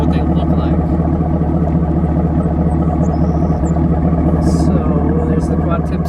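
Chevrolet Camaro SS idling with an MBRP axle-back exhaust, a deep steady rumbling burble close by and constant throughout, with a voice talking faintly over it.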